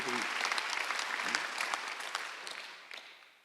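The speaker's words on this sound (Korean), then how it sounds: "빨리 박수하세요" A congregation claps during a Sunday church service, a brisk burst of many hands that starts full and gradually tapers off.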